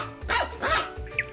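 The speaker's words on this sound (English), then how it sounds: "That's a dog barking." A dog barks twice in quick succession, loud and close, followed by a brief high yip.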